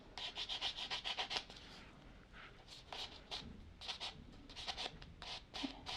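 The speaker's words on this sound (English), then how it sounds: "So I'm going to take my Vintaj relief block. I'm going to rub it using the gray side." A Vintaj relief block, gray side down, rubbed back and forth over a stamped metal jewelry tag, making quiet, close scratchy strokes in an even rhythm with brief pauses.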